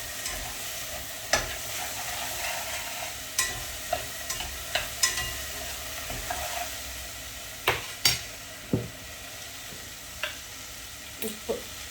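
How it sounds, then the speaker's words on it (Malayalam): Spices, salt, chilli powder and turmeric sauté in a pan for a Kerala mango curry: a soft, steady sizzle runs throughout, punctuated by scattered sharp scrapes and clicks of a spoon stirring against the pan. "എന്നിട്ട് ഇതൊന്ന് നന്നായി വഴണ്ടാൽ മാത്രം മതി."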